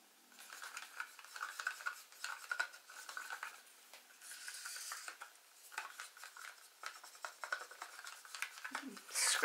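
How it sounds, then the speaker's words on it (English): Floetrol cell activator paint mixture being stirred in a container, steady scraping and swishing strokes with light clinks against the sides, close and fairly quiet, continuing without pause. "we're going to give it a good stir"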